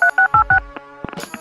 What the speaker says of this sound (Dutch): Kempi belde Lexus op om hem te confronteren.